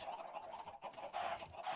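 Minecraft chickens clucking in a video game, a steady run of short, moderately loud fowl calls repeating with brief pauses, heard alone without talk.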